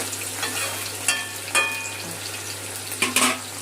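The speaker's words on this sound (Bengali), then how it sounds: "বড় আলুকে যে পাতলা পাতলা করে ভেজে দিচ্ছি" Thin slices of large potato frying in hot oil in a home kitchen, a steady close sizzle with soft crackles and a few sharper spatters, no talking.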